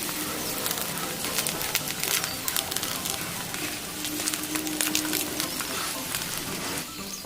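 Potato tacos made with wheat tortillas frying in oil in a pan over a medium flame, a continuous close crackling sizzle with scattered sharp pops throughout.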